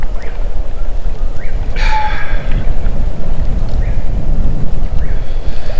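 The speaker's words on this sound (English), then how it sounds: "the wind just picked up like crazy. It's whipping around right now." Strong wind whips around an outdoor wilderness camp, buffeting the microphone with a loud, continuous low rumble and gusty roar.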